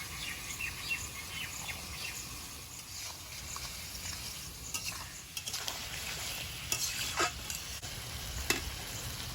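Potato pieces frying in a pan with salt, a steady low sizzle running throughout with scattered sharper stirring and scraping clicks, no talk.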